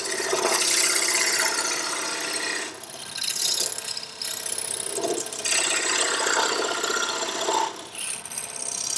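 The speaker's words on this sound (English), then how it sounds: "Make a little relief cut just so I don't bind." A wood lathe turns a box body while a tool makes a relief cut, giving a close, loud, rasping scrape in repeated passes with short breaks between them.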